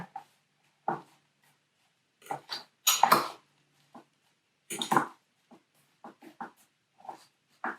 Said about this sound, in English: You want to take a fork and just start scraping the outside frozen